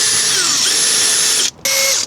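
During motor yacht maintenance, a power drill bores a hole with a loud, close, high motor whine whose pitch glides up and down, cutting out for a moment before spinning up again.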